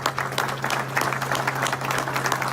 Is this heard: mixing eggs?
no